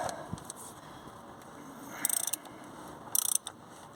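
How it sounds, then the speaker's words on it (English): Ratchet tightening the oil drain plug on a Vauxhall Astra H Mk5 1.4 during an oil change, heard as two short bursts of rapid metallic clicking, fairly close, over quiet background with no talk. "Hand tighten and ratchets. Let's get the ratchet."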